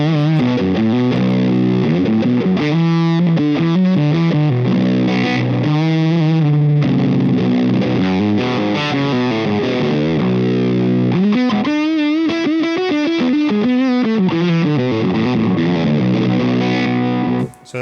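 Electric guitar played through a Pillow fuzz pedal driven by a Duelist pedal, giving a thick, warm, saturated distorted tone as chords and sliding lead lines play continuously and loudly without pause.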